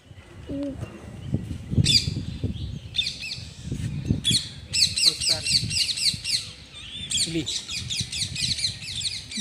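Bursts of high, rapid parrot chirping and chattering from a flock in the trees near a temple, repeating in waves over a low background murmur.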